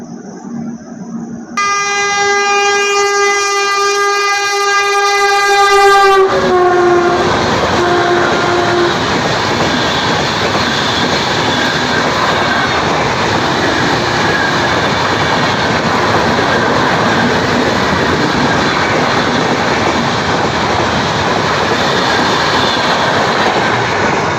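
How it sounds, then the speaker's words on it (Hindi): The Duronto Express from Nizamuddin to Chennai Central overtakes a halted train at Ganj Basoda railway station. A sustained horn blast is followed by a loud, continuous rumbling roar of coaches rushing past nearby for many seconds. "ये ओवरटेक करके गई है हमारी ट्रेन को निज़ामुद्दीन से चेन्नई सेंट्रल जाने वाली दुरंतो एक्सप्रेस"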